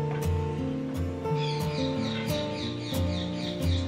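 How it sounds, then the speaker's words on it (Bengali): A parrot at the house next door gives repeated sharp chirping calls in short bursts, heard over a steady tonal rumble from a nearby railway line, with no one speaking. "পাশেই আমাদের একটা টিয়া পাখি আছে পাশের বাড়িতে, সে এখন ডাকছে"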